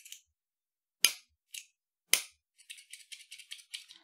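Quiet, sharp metallic clicks from a titanium click pen's metal-on-metal mechanism: a few isolated snaps, then a quick run of lighter rapid clicks, close by with silence between.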